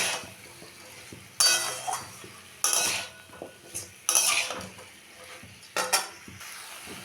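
A metal spoon clinks and scrapes against a pot while chicken is stirred with salt and turmeric, in several distinct bursts of clattering separated by quieter pauses, close and fairly soft.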